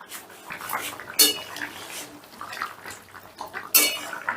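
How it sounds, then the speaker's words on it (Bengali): A metal lid clanks as it is lifted off a pot of simmering egg bora curry, with two sharp clatters over a low background bubble and kitchen noise. "রান্নাটা 2-3 মিনিটের মতন ফুটিয়ে নিয়ে ঢাকাটা তুলে নিচ্ছি।"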